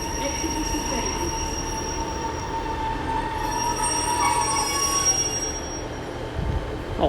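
A Class 150 train slows to a stop at the Exeter Central platform, its wheels squealing in long high-pitched whines over a rumbling undercarriage that runs steadily for several seconds before easing off.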